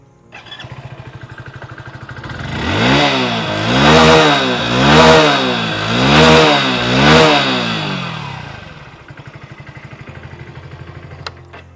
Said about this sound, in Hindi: आपको किसका इंजन का साउंड ज़्यादा बेहतर लगा प्लीज़ कमेंट करके ज़रूर बताइएगा।